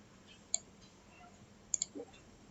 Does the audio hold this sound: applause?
no